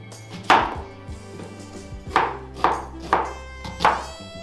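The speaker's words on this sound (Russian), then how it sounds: "Нарезаем кольцами 3 средние морковки и полукольцами 2 луковицы." Knife chopping carrots into rings and onions into half-rings on a cutting board, five sharp close thuds spaced unevenly, each with a short crisp ring-out, no talking.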